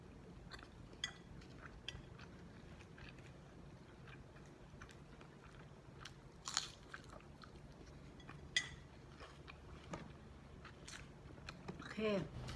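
Someone slowly eats sago dumplings filled with pork, with soft, close chewing and a few sharper crunchy bites scattered through a quiet stretch, ending in a slightly louder burst of mastication.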